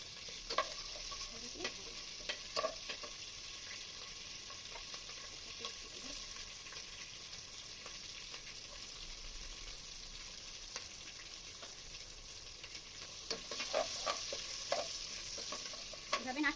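Whole spices frying in oil for hilsa pulao: bay leaf, cinnamon, cloves and cardamom. A quiet, constant sizzle carries scattered clicks and scrapes of stirring that cluster toward the end.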